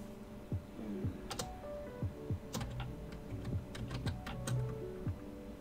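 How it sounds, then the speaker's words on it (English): Fingers type on a computer keyboard in steady bursts of close, crisp key clicks with brief pauses between them. "I pressed shift when I typed that in"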